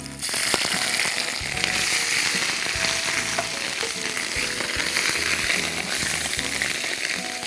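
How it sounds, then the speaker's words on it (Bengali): Mushrooms frying alongside duck meat in a hot pan for a duck pasta dish, giving a loud, dense, continuous sizzle with crackling spatters throughout and no talk. "তাহলে মাশরুমটাও একটু ভাজা হয়ে যাবে।"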